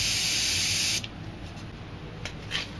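An aerosol can sprays white paint for a waterfall on a painting, one loud, steady hiss lasting about a second, followed by a quiet room with a couple of faint clicks.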